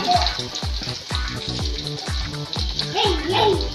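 Fish fries in a pan at home, a loud steady sizzle broken by repeated sharp spattering pops and crackles close by, with no one talking.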